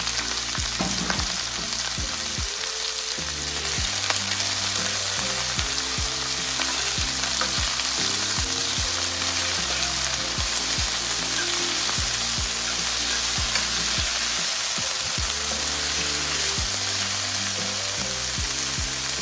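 Vegetables sauté in a pot of seasoning for Jamaican corned beef and cabbage, a loud continuous sizzle with occasional knocks and scrapes from stirring, alongside a steady low hum.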